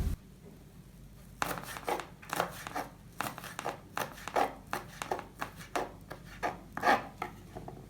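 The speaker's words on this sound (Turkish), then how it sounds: "Şimdi biraz dereotu doğrayalım." Fresh dill chopped with a knife on a cutting board, a run of crisp, fairly quick blade strikes in an irregular rhythm, close and moderately quiet, with no talking.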